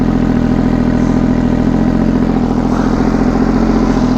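An MV Agusta Superveloce with a triple-cylinder engine and an SC Project exhaust idles steadily, a continuous close throbbing rumble with an even pulse and no pauses.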